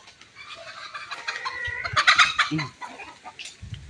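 Several chickens cluck and squawk in a busy, overlapping chatter, fairly close, with a few louder bursts midway.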